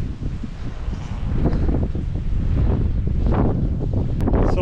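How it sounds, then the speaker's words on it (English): Strong gusty wind from Storm Kathleen buffets the microphone on an outdoor lambing field, a loud continuous rumble with surging blasts and no voices. "Sorry about the wind"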